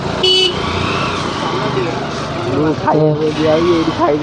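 Cars and motorcycles pass along a busy road with a horn toot near the start, steady traffic rumble throughout, and voices talking over the passing vehicles.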